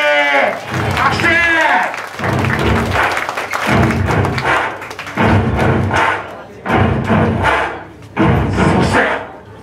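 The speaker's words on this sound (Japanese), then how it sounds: "拍手。" Audience clapping and cheering for a student dance team at a university battle event in Hokuriku, arriving in repeated bursts of a second or so, loud and close, with an announcer's voice talking between them.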